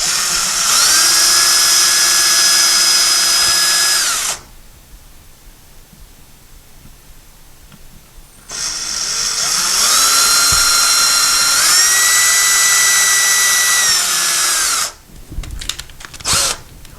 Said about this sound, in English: so you want to be very careful and drill slowly.